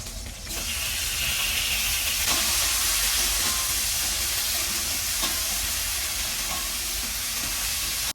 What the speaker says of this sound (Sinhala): දැන් අපි මේ තෙල් එකටම මේ කපාගත්තු තක්කාලි ටිකක් එකතු කරගන්නවා